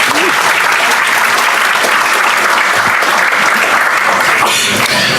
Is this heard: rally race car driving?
no